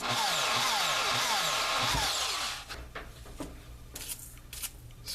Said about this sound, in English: watching the back of the drill right now